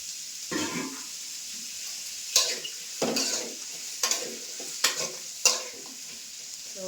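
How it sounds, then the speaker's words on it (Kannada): Onions frying in a pan over high flame, a steady hiss broken by several sharp scrapes and clinks of a spoon stirring against the metal, close and fairly loud. "ಇದು ಈರುಳ್ಳಿ ಆಗ್ತಾ ಇರಲಿ"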